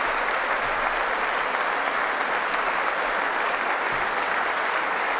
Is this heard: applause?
yes